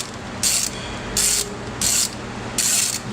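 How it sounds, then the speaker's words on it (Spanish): Adjustment nut on a brake lathe loosened with an 18 mm socket, four short bursts of ratcheting clicks at even intervals over a low mechanical hum, close and fairly loud, no talk. "aflojamos la tuerca de ajuste"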